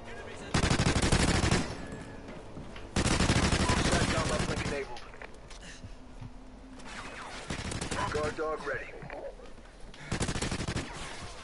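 Bursts of automatic gunfire in a Call of Duty Ghosts match, several sustained volleys of rapid shots with pauses between them, fairly loud, with someone talking over the gaps.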